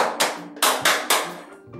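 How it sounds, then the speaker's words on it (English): Hands clapped together as a simple body percussion instrument, giving five sharp, close claps in an uneven rhythm with short gaps, and no other sound around them. "So you're telling me that by clapping my hands, I'm a percussion instrument?"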